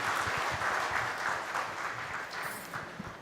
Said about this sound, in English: we can give a big applause to Mr.